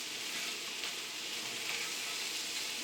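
Chopped onion sizzles steadily in a hot pan for a stir-fried noodle dinner, a dense, even crackle with no voices.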